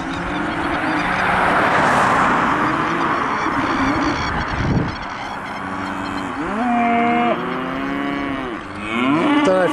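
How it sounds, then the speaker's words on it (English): Several cows moo loudly nearby in Tasmania, near Mt Roland, their long calls overlapping and rising over a steady background hiss. "Don't know if you can hear me over the bloody hubbub of cows mooing,"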